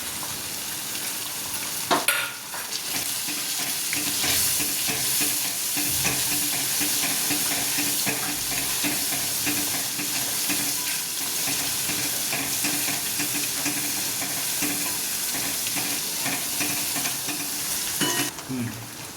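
Red chili powder, paneer masala, black masala, turmeric and salt sizzle steadily in hot oil for palak paneer while a spoon stirs and scrapes the pan, with a clink near the start and another near the end.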